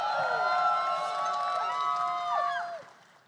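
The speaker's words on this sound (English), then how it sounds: "give a big round of applause to both of them" Fans at an official Kamen Rider Zeztz panel cheer and shout with high, excited voices over a bed of applause, loud throughout and falling away abruptly near the end.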